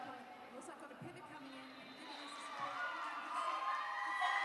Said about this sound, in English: there is a cheer squad that is going off